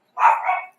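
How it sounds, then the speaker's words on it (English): A single short bark from a pet dog, close and fairly loud, alone in an otherwise silent moment. "That's my dog barking."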